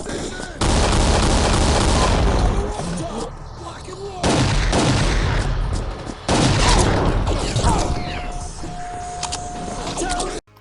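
Loud, sustained automatic gunfire from the first-person shooter Gore - Ultimate Soldier, coming in long rattling bursts with brief pauses between them.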